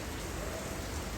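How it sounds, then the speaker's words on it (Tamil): Heavy rain pours outside on a Christmas trip to Raiatea, a dense, even roar of falling water with no pauses and no voices. "ஆனால் வெளியில் மழை கொட்டுறது"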